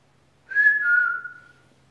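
A person whistles one clear note at The Battlements in southwest Cornwall, a single sustained tone that falls slightly and fades over about a second, alone against a quiet background.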